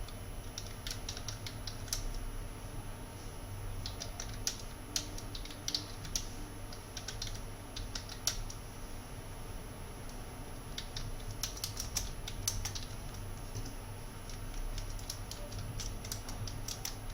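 Steady computer-keyboard typing fills the stretch as a declaration is entered in Busy accounting software, with quick irregular key clicks running continuously under a faint hum and no talking.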